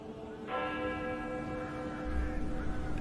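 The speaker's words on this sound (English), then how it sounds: "The dead bell tolled as I walked back through the chill and past the kitchen garden." A single church bell tolls once, struck loudly and close, then rings on with a long sustained hum that slowly fades, alone without voices.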